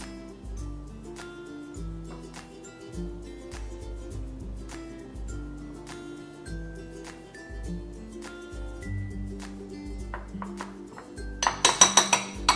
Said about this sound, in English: Now I'll go in with a fork and mix it together.